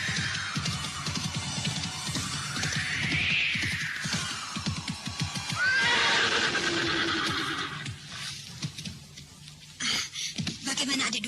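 Horse neighs and whinnies loudly and up close, with rapid hoofbeats galloping beneath, in a rider-on-horseback scene; the calls rise and fall several times over busy movement noise.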